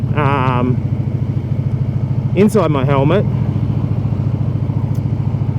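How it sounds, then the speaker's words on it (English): Harley-Davidson Street Bob exhaust rumbles steadily while riding, a loud, pulsing low thrum heard close from a mic inside the helmet, with light wind noise and someone talking over it. "it's picking up a lot of the exhaust noise, as well as a little bit of wind noise"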